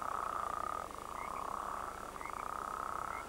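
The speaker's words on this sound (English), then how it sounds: "Spadefoot toads emerge from their burrows." Spadefoot toads call in the desert after rain, a steady low trilling chorus with a few higher chirps over it, faint and continuous.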